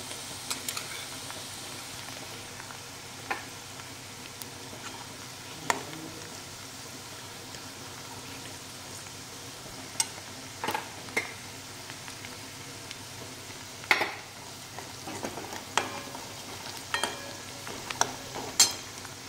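Garlic and onion fry in oil in a pan for Zunka, with a steady soft sizzle underneath and scattered scrapes and clinks of a spoon stirring, close and moderately quiet.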